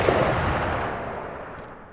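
Gunshot in a game built in Unreal Engine 5.3, the shooter Hunters: Uprising: a single loud, broad blast at the start with a long rumbling tail that fades away over about two seconds.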